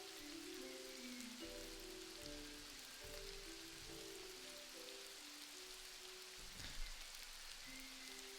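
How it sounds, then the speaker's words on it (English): Rain falls in the video game Mortal Online 2, a soft steady patter under a faint game soundtrack with sustained tones, holding at a low, even level throughout. "Okay, so you see now, it's starting to rain, right?"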